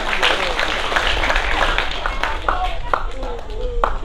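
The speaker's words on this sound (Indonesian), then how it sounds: "Beri tepuk tangan sekali lagi." An audience applauds at a stage event after a speaker's talk, with dense steady clapping under a loud voice speaking over it and a few sharper claps near the end.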